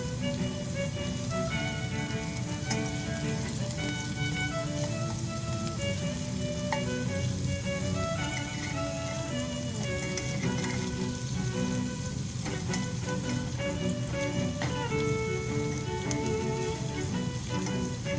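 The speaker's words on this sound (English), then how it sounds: "I'm turning the shrimp to cook the other side." Garlic butter shrimp sizzle steadily in a hot pan for the whole stretch, a constant close frying hiss with a tonal melody running over it.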